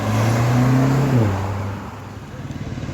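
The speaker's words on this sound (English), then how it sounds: "I can see BMW M8 is just coming." A BMW M8 sports car drives past on a Mumbai street, its engine droning loud and close with a deep revving tone that drops as it passes, followed by fading traffic rumble.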